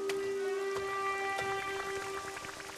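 Cartoon rain falling in a Doraemon episode: a soft patter of scattered drops and taps under a steady sustained musical tone, with no talking.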